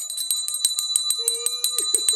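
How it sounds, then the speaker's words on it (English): An alarm bell ringing in a tabletop game scene, a rapid steady series of bright metallic dings with lingering tones, loud and continuous with no talk. "All right, so the bell's going off."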